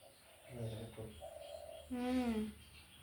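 A pet pigeon at a house door coos softly in a few short rounded calls, close by, with a person's voice talking nearby in between.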